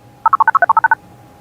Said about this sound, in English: Let's call Minnie